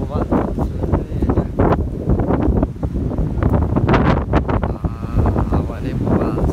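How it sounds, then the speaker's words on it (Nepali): Strong wind buffets the microphone on an exposed hilltop at Makwanpur Gadhi, a steady rushing roar with gusts throughout, while people talk over it. "हावा नै बवाल छ कि।"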